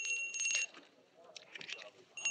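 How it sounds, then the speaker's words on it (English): A small bell hung on a sheep rings in a clear, bright jingle, sounding in bursts near the start, middle and end, fairly close and moderately loud against a quiet background. "That's Baa-Baa's bell, isn't it"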